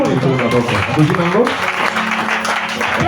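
A church congregation claps and cheers in praise of the Lord. The applause is steady and dense, and voices carry over it throughout.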